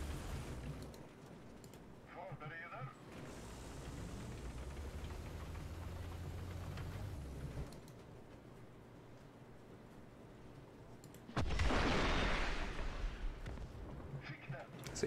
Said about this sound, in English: Let's shoot some tanks with it.